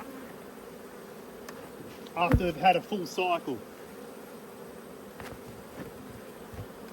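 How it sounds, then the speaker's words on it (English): Bees swarm around an opened beehive, their steady buzzing continuing throughout while a person talks briefly midway. "take note of the temperament of these bees"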